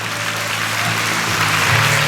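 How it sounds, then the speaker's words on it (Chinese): Church members at an anniversary thanksgiving meal clap together in a brief, dense burst of applause that swells slightly toward the end. "我们来拍拍手好不好"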